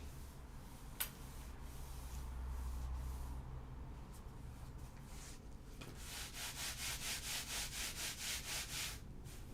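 A household iron gliding back and forth over fabric pieces at a sewing table, with soft rubbing and swishing strokes, then a steady run of rhythmic sliding passes near the end.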